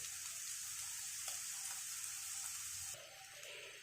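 Beetroot poriyal with ground paste sizzles and fries steadily in a pan over high flame, a continuous close crackling hiss with a few soft stirring knocks near the end.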